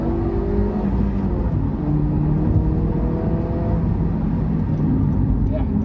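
Supercharged Honda CR-Z HPD Edition pulling hard in Sport Plus mode, its engine droning steadily and loudly up through the revs with rising harmonic tones, a continuous close in-cabin roar with no talk over it.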